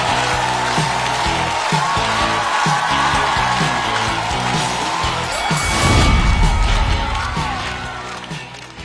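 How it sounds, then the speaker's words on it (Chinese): A studio audience at a stand-up comedy contest bursts into loud, sustained applause and cheering as a comedian is welcomed, a dense roar of clapping that swells toward the end over stage music. "掌声欢迎杨蒙恩！"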